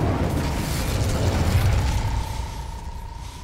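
Incendio spell cast at a gate in Hogwarts Legacy, a loud close fiery blast with a roaring rumble that slowly fades, leaving a thin sustained tone at the tail.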